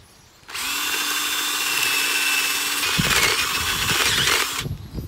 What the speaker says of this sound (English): So I'm drilling holes for some hot peppers to go in here.